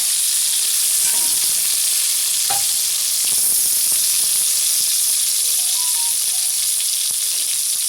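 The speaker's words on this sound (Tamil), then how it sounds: "காய் வதங்கும் போது தக்காளி சேர்த்து வதங்கி வச்சுங்க." Bitter gourd and tomato sauté in a pan for a Tamil bitter gourd pepper curry, giving a steady, close sizzling hiss with a few soft stirring clicks and no voices.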